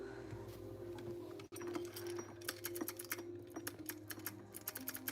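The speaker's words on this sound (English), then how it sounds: "Sometimes I like the typing as well" Computer keyboard typing at a home art-streaming desk: a run of quick, uneven key clicks close to the mic, starting after a brief pause and continuing over a steady low background hum.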